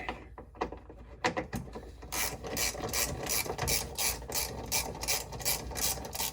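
Rapid ratchet clicking from tightening bolts snug during an oil change on a 2024 Ford F-250 diesel, a steady run of close mechanical pawl clicks after a few slower handling knocks.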